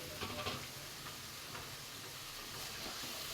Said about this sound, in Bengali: ভাজিটা নামায়া এর মধ্যে মাছটা ভেজে নিচ্ছি।